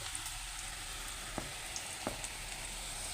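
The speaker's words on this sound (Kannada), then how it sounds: "ಮೀಡಿಯಮ್ ಫ್ಲೇಮ್ ಇಟ್ಕೊಂಡು ಚೆನ್ನಾಗಿ ಗರಿ ಗರಿ ಆಗೋ ತನಕ ಫ್ರೈ ಮಾಡ್ಕೊಳ್ಬೇಕು" Onion pakoda deep frying in oil over a medium flame, giving a steady, fairly quiet sizzle and crackle throughout with a few sharp pops, and no talking.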